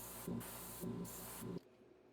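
An airbrush sprays paint onto a crankbait lure, a close steady hiss that pulses slightly in strength and then cuts off abruptly near the end, leaving only a low hum.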